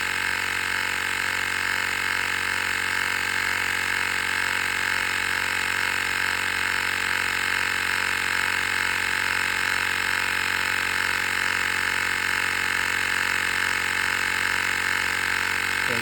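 An Airmoto smart air pump runs without a break while inflating a tire, giving off a steady mechanical drone with a constant high whine. It stays alone and fairly quiet for the whole stretch.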